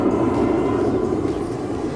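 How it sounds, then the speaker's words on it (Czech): Jet airplane noise over London, a steady broad roar that fills the whole stretch as an aircraft passes overhead, loud and continuous with no voices. "tady lítají letadla"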